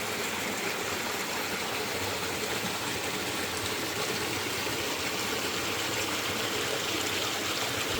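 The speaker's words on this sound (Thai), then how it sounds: "มาถึงแล้วครับผมน้ำตก น้ำตกห้วยแห้งในป่าลึกจังหวัดกาญจนบุรี" Huai Haeng waterfall stream deep in the forest of Kanchanaburi, Thailand, rushes in a loud, unbroken wash of falling water, close by with no talk.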